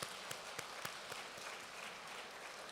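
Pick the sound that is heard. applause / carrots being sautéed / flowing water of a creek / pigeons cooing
applause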